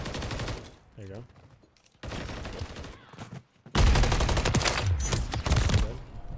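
Automatic weapon fire in the online shooter Call of Duty: Modern Warfare III, ranked hardpoint play with the MCW rifle: loud, dense bursts of rapid shots that grow heavier toward the end, broken by short gaps and brief voice chatter.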